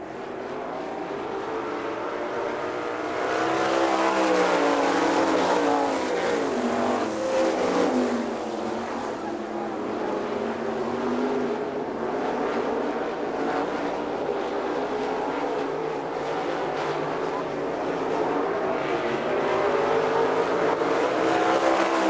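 410 sprint cars race at Hartford Speedway, the engines a sustained high-pitched roar with rising and falling pitch as the pack circles the track, loud and continuous from a distance, with no voices heard.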